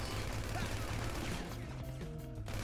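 Gunfire takes out gate guards in GTA V, a dense, loud clatter of rapid shots with a low, buzzing game soundtrack underneath.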